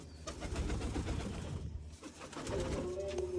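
Pigeons coo in soft, low murmurs against a noisy, rushing background, waiting to be fed grain after heavy rain.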